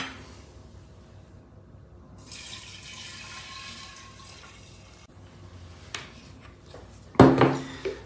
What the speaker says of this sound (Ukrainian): Ну і додаємо тепер наш спиртовий розчин.